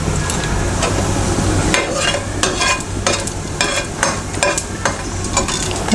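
Mustard seeds go into hot oil with lightly fried crushed garlic, making a loud, continuous sizzle broken by sharp crackling bursts and brisk stirring scrapes, with no voice.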